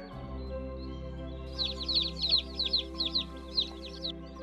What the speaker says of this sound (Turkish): İlk yavrulayanlar genelde hep kara tavuklar oluyor.